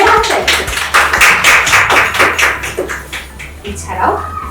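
Rhythmic hand clapping at a Bengali game show prize handover, fairly close and steady before tapering off, with people talking underneath and afterward.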